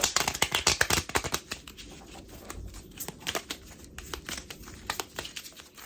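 Rapid papery riffling and snapping of a deck of playing cards being shuffled, a quick burst of crisp clicks followed by softer intermittent flutters, close and alone.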